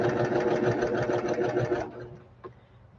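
A home sewing machine stitches quilt block pieces together, a steady fast mechanical whir running for about two seconds before stopping, close and clear with no talking.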